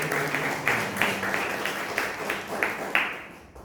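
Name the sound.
audience applause at Toastmasters meeting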